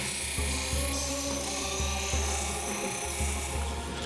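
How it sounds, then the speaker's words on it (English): Lapidary grinder running a flexible abrasive belt over a rubber expanding drum while shaping a stone arrowhead, a loud continuous grinding whir with a rasping edge, pulsing roughly every half second as the stone is worked. "The other side of the grinder has a rubber expanding drum with a flexible abrasive belt over it."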